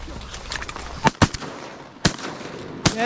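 Shotgun blasts from a rainy-day duck hunt: four sharp, loud reports spaced irregularly over a steady hiss of rain, the first two close together, the others spread apart.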